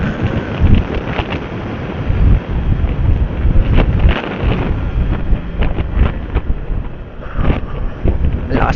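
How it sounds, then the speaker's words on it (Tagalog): Strong wind buffets the microphone on a night motorcycle ride from Pililla to Mabitac in the Philippines, continuous heavy gusts with a low rumbling roar throughout and brief louder blasts. "Malakas ang hangin dito pa din"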